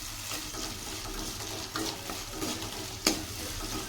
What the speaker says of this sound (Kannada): ಇದೆಲ್ಲ ಚೆನ್ನಾಗಿ ಫ್ರೈ ಆಗಲಿ.